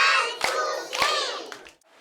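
Children clapping in unison on a count, two or three sharp group claps spaced about half a second apart amid a bright chatter of young voices.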